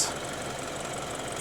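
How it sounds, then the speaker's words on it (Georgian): The 2.0 engine of a BMW 428 F33 idles with a steady, even hum and faint mechanical rattle, heard close up and alone without talk. "თვითონ ძრავსაც კარგი ხმა აქვს"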